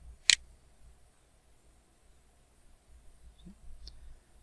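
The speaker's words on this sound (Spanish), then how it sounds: "Entonces hacemos clic aquí." A single sharp computer mouse click sounds near the start, crisp and close in a quiet room, followed by faint soft taps and low background hum.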